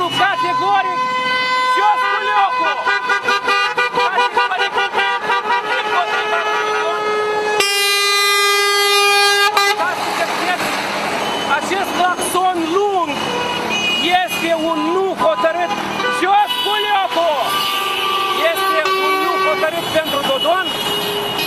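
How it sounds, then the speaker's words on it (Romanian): Car horns honk repeatedly from passing vehicles at a street protest action against Dodon, with sustained tonal blasts overlapping amid steady traffic noise and crowd voices throughout. "Cetățenii s-au săturat de Culioc, reacționează prin claxonare la jos Culiocul"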